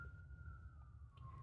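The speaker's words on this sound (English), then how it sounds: "there goes the sirens" Siren passing at a distance, a single faint steady wail slowly dropping in pitch over a low rumble of background noise.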